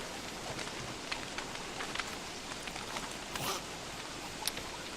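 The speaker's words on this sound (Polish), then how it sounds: "cholerny deszcz" Steady rain falls in the survival video game Don't Starve: Reign of Giants, a constant dense hiss of raindrops with occasional brief crackles, heard alone without speech.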